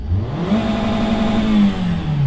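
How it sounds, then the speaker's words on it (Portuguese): Car engine held at the rev limiter, a loud, close, high steady rev that wavers and stutters as the limiter cuts in, with no voices. "Olha o corte de giro desse carro,"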